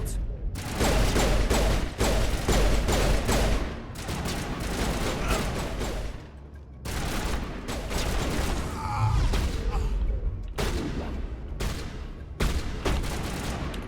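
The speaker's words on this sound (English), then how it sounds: "People shooting at me from back here? Oh, they totally are." Enemy gunfire in the video game Mass Effect, loud rapid bursts of automatic shooting in several dense volleys separated by brief lulls, with occasional heavier booms mixed in.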